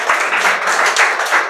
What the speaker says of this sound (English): So big round of applause for Khatija.